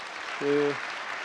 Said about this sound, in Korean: 우리 박수 부탁드립니다